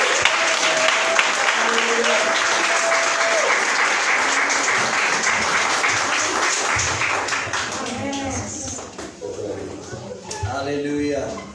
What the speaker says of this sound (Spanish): ¿por qué no le da un aplauso al Señor Jesucristo en lo que mi pastor pasa?